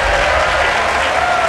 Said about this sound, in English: don't be afraid to clap or cheer.